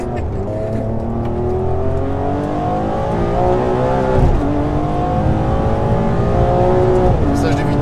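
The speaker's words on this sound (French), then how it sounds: "Passage de vitesse à 8000 tours." A Ferrari 599 GTB with its V12 engine revs hard from inside the cabin, a loud sustained howl climbing in pitch, then a gear shift at 8000 rpm drops it briefly before it climbs again.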